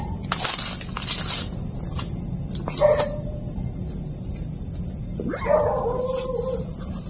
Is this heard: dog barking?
yes